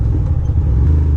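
A Ducati motorcycle idling just after being jump started on an old three-year-old battery, a loud close steady low rumble with no voices.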